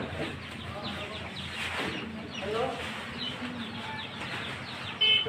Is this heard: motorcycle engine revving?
no